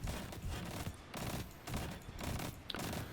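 Sustained automatic gunfire from a weapon with the Outlaw perk in Destiny, firing in rapid bursts broken by brief pauses, loud and close throughout.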